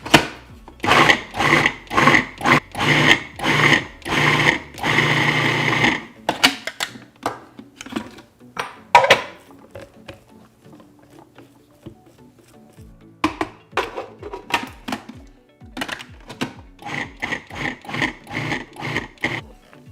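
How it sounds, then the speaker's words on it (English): A food processor pulses a black bean burger mixture in repeated short bursts of whirring and chopping, first in a quick regular series, then sparser clunks and bursts after a pause. "the food processor really isn't blending things up as too great now"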